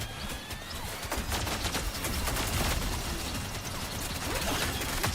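Turrets fire in a video game as a fast stream of gunshots rattles amid busy mechanical battle noise, moderately loud and sustained across the moment with no voices heard.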